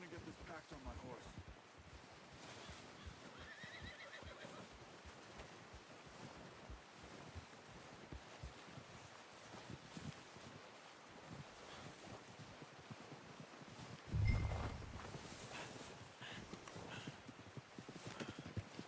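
Horse hooves clop steadily in Red Dead Redemption 2, with wind and surf-like ambience behind them, a brief louder thump partway through, and the rhythm continuing at a moderate, fairly quiet level.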